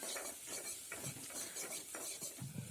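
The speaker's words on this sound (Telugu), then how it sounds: "పచ్చిమిర్చి, ఉల్లిపాయలు అండ్ వెల్లుల్లి ముక్కలుగా చేసుకున్నవి వేసుకొని బాగా ఫ్రై చేసుకోవాలి." Green chilies, onions and garlic frying in oil in a kadai, with a steady sizzle under scraping and clinking of a spatula stirring the pan, close and continuous.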